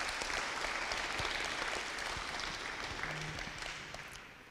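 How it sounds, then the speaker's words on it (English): Sustained audience applause fills a boxing tournament press conference hall, steady clapping at a distance that slowly fades toward the end. "Can we have a round of applause,"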